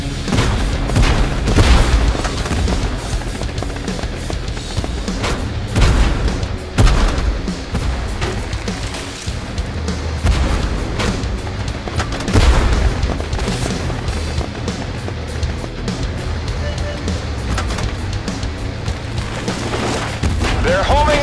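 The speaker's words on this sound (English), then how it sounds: "under gunfire!" Continuous heavy gunfire and booming explosions in the video game Tank Force, loud and chaotic, with shouted voices occasionally breaking through.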